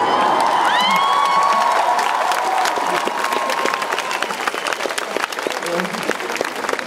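Wedding guests at a concert clap loudly and continuously as a dense crowd, with cheers and whoops rising above the applause and voices mixed in.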